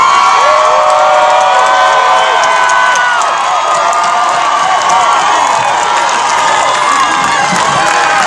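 A crowd at a Freddie Gray protest cheers and whoops loudly, a dense wall of shouting voices and scattered clapping that stays strong throughout.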